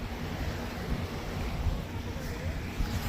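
Waves of the Arabian Sea wash steadily along the Kerala seafront, a broad continuous surf roar mixed with wind buffeting the microphone, with no clear breaks.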